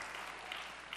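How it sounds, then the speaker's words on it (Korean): A congregation at a Sunday church service claps together in a brief, steady patter of applause, heard faintly from a distance. "이 예배를 위해서 고생하시는 우리 모두에게 감사의 박수 하시겠습니다"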